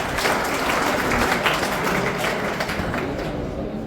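A room full of people claps together in loud, sustained applause for a woman officer at a police awareness session, the dense patter of hands steady before easing slightly at the end.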